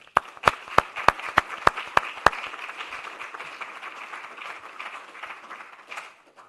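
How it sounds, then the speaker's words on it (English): An award presentation audience breaks into applause, opening with a few sharp, loud claps that quickly blend into a sustained patter of clapping from a crowd, fading toward the end. "another round of applause"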